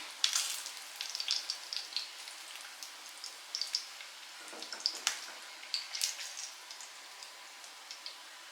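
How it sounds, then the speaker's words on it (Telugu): Flounder fish frying in oil in a pan, a soft steady crackle with scattered faint pops and sizzles continuing throughout, no talking. "మనం మంచిగా ఫ్రై చేసుకోవాలి, బ్రౌన్ కలర్ వచ్చేలాగా"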